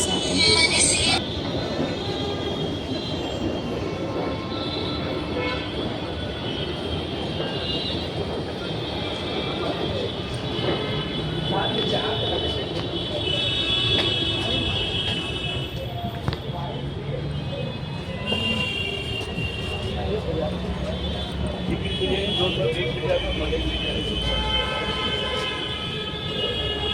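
Steady rumble and rush of a metro train ride, continuous at moderate loudness for the whole stretch, with faint chatter and shifting mechanical hum inside the carriage.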